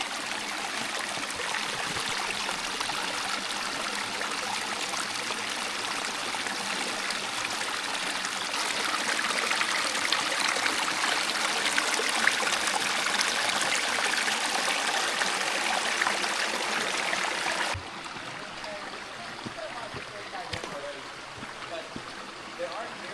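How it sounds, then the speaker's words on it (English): Water in Pine Creek, Tonto Natural Bridge State Park, Arizona, rushes and burbles steadily and loudly for a long stretch, then drops to a softer, duller flow near the end. "You said there's a creek up in there."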